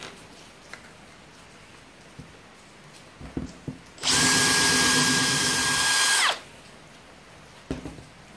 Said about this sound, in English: Now I've got those 4 holes drilled